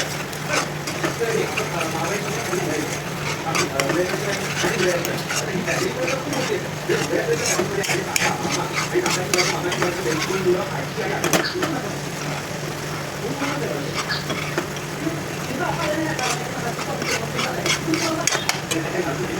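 Khoa for mango barfi is stirred continuously in a pan as it roasts, a steady run of scraping and clinking strokes with a soft sizzle beneath, close and busy throughout.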